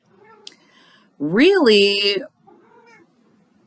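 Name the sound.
cat meowing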